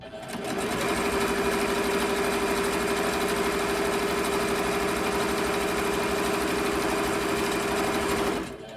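A sewing machine runs steadily through nearly the whole stretch at a constant loud, even hum, stitching small Christmas key fobs from fabric scraps, its motor buzz unbroken from start to finish with no talk.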